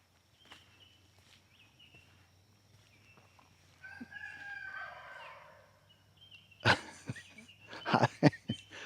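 A distant rooster crows faintly over a low hum, followed by several louder close thumps and rustles, like footsteps.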